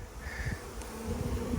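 Honey bees buzz steadily inside a weak hive that has just been strengthened with an added frame, a close, continuous insect hum with no talking.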